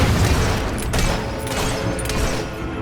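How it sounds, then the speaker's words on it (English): Dense, booming battle gunfire in Fable 3, continuous, loud rumbling fire with overlapping shots and explosions, no distinct speech. "We're under fire!"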